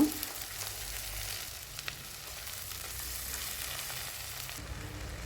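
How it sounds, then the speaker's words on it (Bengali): Green chillies and tomato frying in oil in a pan, giving a steady, even sizzle with a faint crackle throughout and no talking. "তো সবগুলো আবার একটু ভালো করে ভেজে নিচ্ছি"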